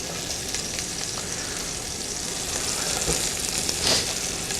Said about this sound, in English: As this sizzles and browns, we're going to brown it on all sides.